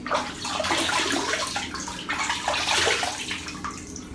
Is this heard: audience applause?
no